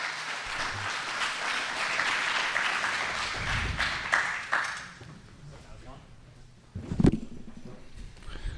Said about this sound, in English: Put your hands together. Keep clapping. Keep clapping.